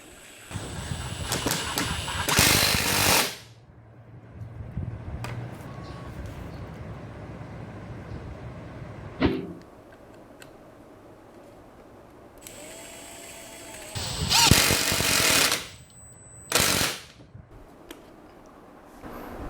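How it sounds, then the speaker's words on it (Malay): M12 and M18 cordless impact drivers drive screws into thick wood, giving several loud, short rattling bursts separated by quieter stretches of background noise. "Dua-dua guna bit dengan skru yang sama. Kita try drive masuk kayu yang tebal."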